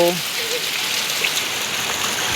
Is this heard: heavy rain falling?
yes